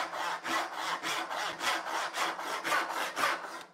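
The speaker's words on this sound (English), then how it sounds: "I'm not too optimistic I'm going to be able to control this crosscut saw across this maple" A crosscut handsaw cuts through maple in about eight even back-and-forth strokes, each a close, rasping pulse with a steady rhythm and no talk.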